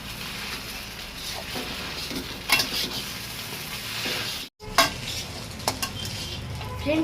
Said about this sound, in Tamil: நூடுல்ஸ் ஆட் பண்ணோடனே நல்லா முட்டையோட கிளறிக்கோங்க